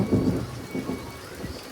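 Thunder rumbles low and rolls on through steady rain in a village, the rain hissing evenly beneath the deep booms for the whole stretch, with no voices.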